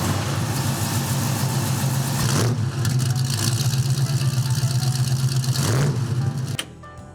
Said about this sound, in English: Start the engine and let the car run for 30 seconds.